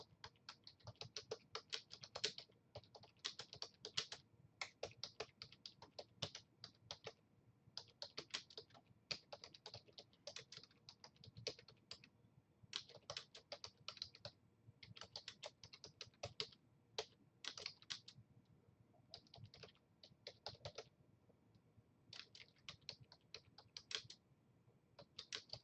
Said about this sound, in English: I'm going to type in the one from the textbook